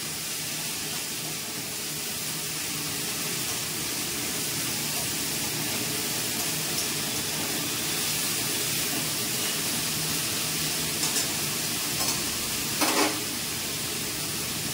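Steady, soft sizzling of food frying in a pan, continuous hiss throughout, with a few faint scrapes near the end.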